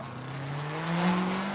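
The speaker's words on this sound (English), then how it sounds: "Matt Field leaves the start line" Borla-exhausted Corvette drift car on Falcon tires leaving the start line at a Formula Drift qualifying event in Irwindale, a loud close engine drone rising in pitch as it revs and pulls away.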